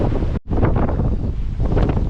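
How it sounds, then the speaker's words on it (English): Strong wind buffeting the microphone in a continuous loud roar at Diss railway station, with one brief drop-out before the gusting resumes. "We're here on a very windy day"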